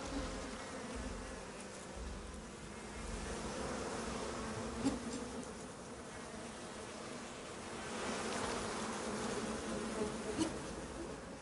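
A swarm of bees in the survival video game Icarus gives off a continuous droning buzz that swells and fades slightly, fairly faint and alone, with no talk over it.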